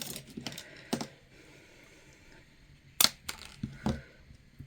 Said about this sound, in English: then you cut your straw down to whatever size you want